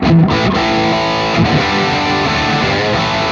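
Heavily distorted electric guitar chords through a 5150 amplifier with a hair of reverb ring out loud and sustained, with a thick, saturated high-gain tone and no voices.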